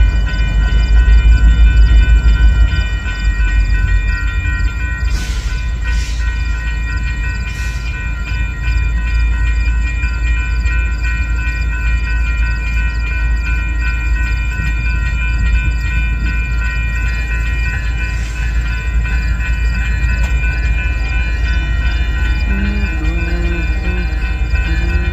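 A freight train led by a Union Pacific locomotive rumbles past in St Paul, Minnesota, a loud, continuous low roar of engines and rolling cars with a few brief squeals and clanks.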